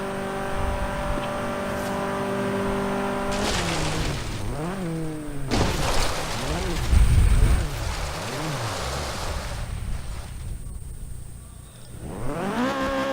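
A Subaru BRZ in Forza Horizon 3 runs down a drag strip, its engine revving up through repeated rising sweeps with gear shifts, loud and steady throughout.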